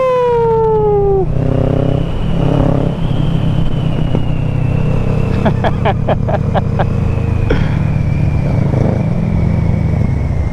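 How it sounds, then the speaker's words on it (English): A motorcycle engine roars loudly and steadily at night as a wheelie is pulled, with a high wailing tone and sharp clattering bursts over the low, continuous drone. "Yo, holy fuck, I did a wheelie, bro."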